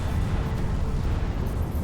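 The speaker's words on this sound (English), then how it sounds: "Now we're seeing a lot of explosions." Starship explosions in the space strategy game Sins of a Solar Empire II rumble as a dense, continuous low roar of blasts and debris, loud and without talk.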